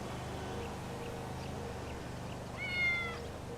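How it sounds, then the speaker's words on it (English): A cat in the GTA Online video game gives a single short meow partway through, heard over a quiet bed of game ambience with faint chirps. "That's a fine cat."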